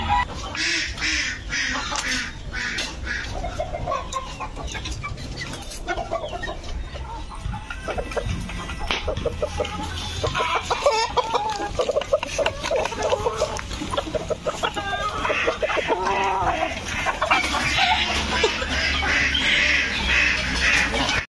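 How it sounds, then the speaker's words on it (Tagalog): Chickens and chicks in a backyard coop cluck and peep continuously, close and busy, with someone talking over the birds throughout. "nandito na po tayo sa ating mga alagang mga sisiw sa likuran ko"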